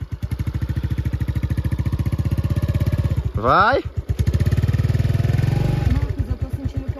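A new motorcycle's engine runs near and loud in a fast, steady pulsing thrum, briefly interrupted, then revs up again as a voice speaks over it.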